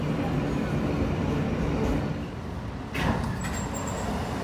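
Riding a New York City subway J train with CBTC signalling toward Jamaica Center: a steady low rumble of the moving car, a brief clatter partway through, then a faint high tone over the continuing roar.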